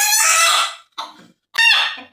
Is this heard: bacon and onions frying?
no